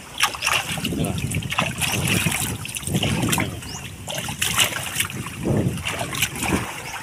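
Rough, heavy sea whipped up by a monsoon storm in the Philippines, waves surging and splashing close by in a steady broadband roar, with wind buffeting the microphone throughout.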